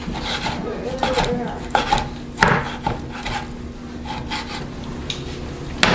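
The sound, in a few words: knife slicing steak against the grain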